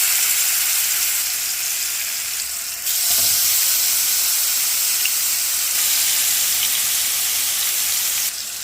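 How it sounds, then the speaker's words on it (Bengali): Salmon pieces fry in hot mustard oil in a frying pan in a backyard garden, a loud continuous sizzle with a brief dip partway through, and no voices. "তো আমি এখন মাছগুলোকে ফ্রাই প্যানের মধ্যে দিয়ে দিচ্ছি।"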